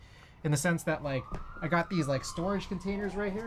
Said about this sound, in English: pardon the sirens if you guys hear them